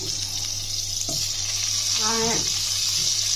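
Potatoes drop one by one into hot mustard oil for a steady, close frying sizzle, with a brief bubbling burst midway and a short spoken word near the start.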